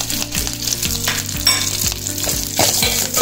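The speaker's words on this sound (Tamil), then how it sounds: "நல்லா பொரிய வச்சுக்கோங்க." Garlic, curry leaves and dried chillies fry in hot oil in a pan for a South Indian puliyanam, sizzling steadily up close while a spoon stirs with regular soft scraping clicks.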